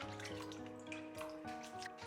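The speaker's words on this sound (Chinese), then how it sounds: "处理好之后，再放到清水里面给它清洗干净。" Peeled water bamboo is rinsed in clean water, with steady splashing and running water close by for about two seconds and no talking.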